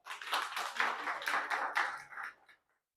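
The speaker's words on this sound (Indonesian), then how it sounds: "Kita kasih aplaus dulu." A lecture audience applauds, a crisp burst of many hands clapping for about two seconds before tapering off into silence.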